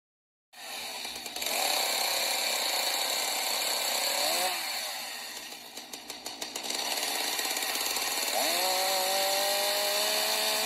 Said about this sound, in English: How is this chainsaw going to work if it's not plugged into anything?